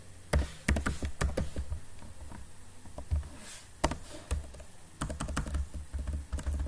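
Fast, irregular clicking of computer keyboard keys as Python code is typed, close and clear, in bursts with brief pauses and no talking.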